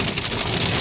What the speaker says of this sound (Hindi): इतना बारिश तेज़ हो गया माशाल्लाह